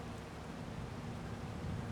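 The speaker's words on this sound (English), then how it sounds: "we got hit with rain. It just started." Rain begins falling outdoors on a Missouri farm during wheat harvest, a faint, steady patter and hiss of drops with a low rumble beneath, no voices.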